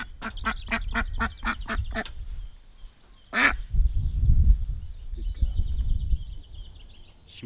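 Several domestic ducks quack close by in a rapid burst of about eight calls, followed by a loud single honk-like quack and softer scattered calls over outdoor background noise.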